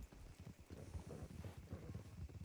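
Many horses' hooves clopping on the ground as a group rides into a Wild West town in RedM, a dense, continuous, fairly faint patter of overlapping hoofbeats.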